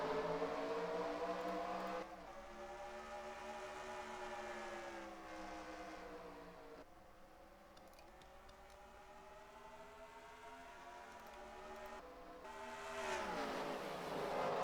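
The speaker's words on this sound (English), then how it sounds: "Here they come. Green flag in the air, racing in the Target 400." A pack of race cars roars off at the start of the Target 400 at Richmond, engines droning and shifting pitch as they pull away and sweep around the track, heard from a distance and sustained throughout.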